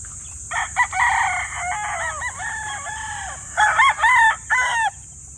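Several stag roosters crow one after another from a farm's crowded rows of cord-tethered cages, their strained, wavering calls overlapping near and loud, with a few clucks between them.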